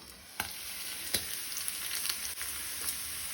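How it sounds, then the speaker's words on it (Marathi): Rava-coated squid fries in hot oil with a steady, close sizzle, broken by sharp pops and crackles of splattering oil at irregular intervals. "माणक्यो फ्राय करता आसतना तेल उसळटा,"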